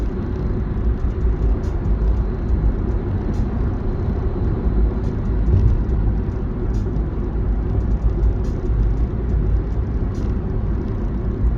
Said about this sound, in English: There's another crazy bus.